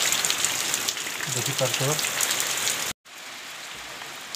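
Heavy rain falls on 19 August 2025, a dense, constant hiss of drops on surfaces. A voice speaks briefly over the downpour before a short cut.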